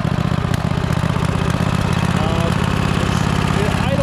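Cub Cadet RZT zero-turn mower engine idling nearby, a steady, loud, throbbing low rumble with a slightly uneven, popping beat throughout.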